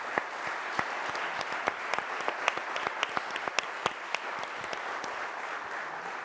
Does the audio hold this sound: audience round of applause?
yes